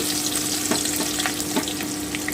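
Chopped onions frying in oil in a pan for egg curry with cauliflower and potato, a continuous close sizzle with a few soft spatula scrapes and a faint steady hum.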